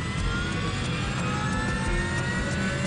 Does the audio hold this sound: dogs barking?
no